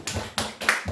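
A church congregation gives thanks with clapping: three sharp, evenly spaced claps, close and distinct, in under a second.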